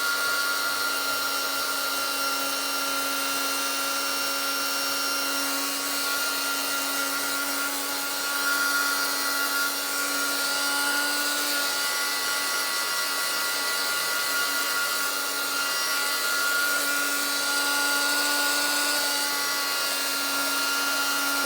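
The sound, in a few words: dryer blowing to dry pages of an altered book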